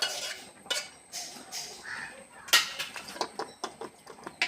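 A spoon stirring cooked sago into pradhaman, a sweet pudding, in a pot, giving repeated close metallic scrapes and clinks against the pot in an uneven rhythm.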